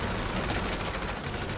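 Rapid gunfire crackles across a shooting range inside an underground bunker in GTA 5 Online, a dense unbroken barrage of shots filling the space at steady loudness with no talk over it.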